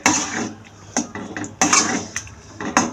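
Spoon scraping and clanking against a pan while mashed vegetables are mixed into pav bhaji, a series of sharp metallic knocks and scrapes at an uneven rhythm, close and fairly loud.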